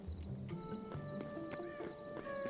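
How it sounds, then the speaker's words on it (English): Horse in the video game Hytale, neighing and whinnying close up with a few soft hoof clops, clear and alone at moderate volume. "I need to actually properly tame my horse."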